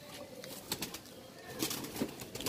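A Deobandi pigeon being handled makes soft coos mixed with brief wing flutters and rustling, close by and fairly quiet, with a few sharper flaps.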